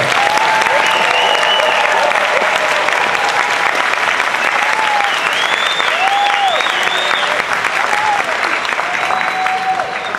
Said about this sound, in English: another round of applause for them and all of our new students here in UTMB